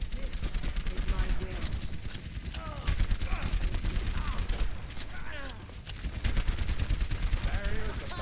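Continuous bursts of gunfire from an Overwatch match, rapid automatic shots and loud impacts filling the whole stretch with dense, sustained fusillade and no break in the action.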